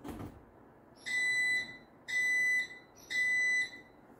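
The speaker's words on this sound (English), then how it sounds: "thing beeps instead of just flashing the lights" Three loud, high-pitched electronic beeps from a Linear LDCO850 garage door opener, each about half a second long, evenly spaced over low background hum.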